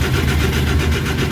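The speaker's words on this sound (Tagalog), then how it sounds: "try natin i-start kung i-under ba." A Suzuki DA64 engine turns over without starting, a loud continuous cranking churn with a fast rhythmic pulse heard up close throughout the short stretch.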